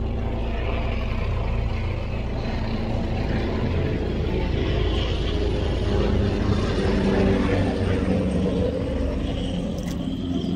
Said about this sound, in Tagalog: An helicopter.